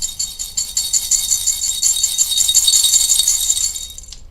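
Beads rattle and clatter continuously as they are handled and poured, a bright close-up jangle held at fairly steady loudness before it stops abruptly near the end.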